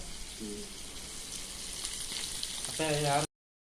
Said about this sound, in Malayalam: നന്നായി തിരിച്ചിടുക ആ നന്നായി പൊരിഞ്ഞു വന്നിട്ടുണ്ട്